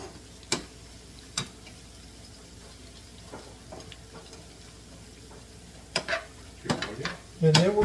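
Bacon and tender vegetables are stirred in a soup pot, heard as a quiet low sizzle with occasional spoon knocks and scrapes, growing busier toward the end, with faint talking.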